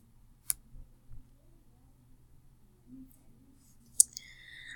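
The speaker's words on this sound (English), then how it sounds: "You can click on the first link." Two sharp, faint computer mouse clicks a few seconds apart, alone in a quiet room.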